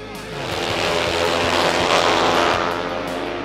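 Speedway motorcycles race down the back straightaway at a 2021 AMA/FIM North American Final, a swelling engine roar that builds and fades with a commentator talking over it.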